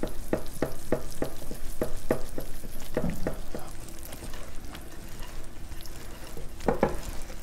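A spoon stirs chocolate cake batter in a bowl, scraping and tapping in a quick regular rhythm that slows and thins out midway. The strokes are close and fairly quiet, with no speech.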